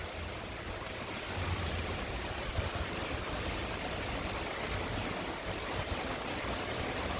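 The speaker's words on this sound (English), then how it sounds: "See how the rain is coming down harder now as compared to my last video." Heavy rain pours steadily onto a street with ponding water under shifting winds, a dense constant wash of noise heard alone at moderate level.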